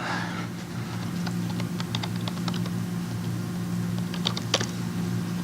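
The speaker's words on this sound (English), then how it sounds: "I told you I can't type on this keyboard," Rapid, irregular keystrokes on a computer keyboard during a Linux LVM demonstration at a tech conference, clicking in bursts over a steady low hum of room noise, with no talking.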